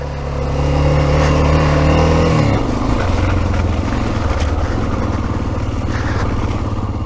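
An XT off-road vehicle climbs through snow on a steady throttle, its engine droning loud and close, dropping to a lower, rougher note partway through as it labours up the slope, with no voices.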